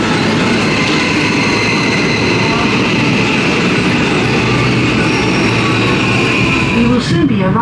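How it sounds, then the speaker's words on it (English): A passenger train in Japan rolls along with a steady loud rumble and faint rail clatter, heard from inside the carriage, with a brief squeal-like shift near the end. "let's jump on the train"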